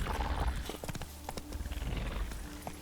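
Hooves of Roach, a horse in a Witcher video game, clip-clop in a quick, even rhythm, close and clear, with a brief neigh-like snort near the start and no talking.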